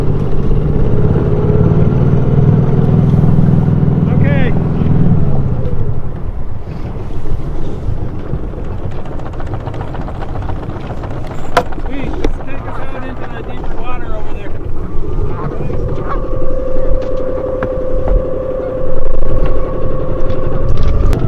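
A steady motorboat engine drones as it tows a sailboat that has lost its engine, with heavy wind buffeting the mic and water rushing past throughout.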